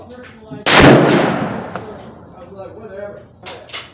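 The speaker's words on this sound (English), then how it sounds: "I'm gonna shoot first round to the bottom middle target" A single loud rifle shot fired at a target on an outdoor range, a sharp crack followed by a long fading echo, with quieter bits of speech afterward.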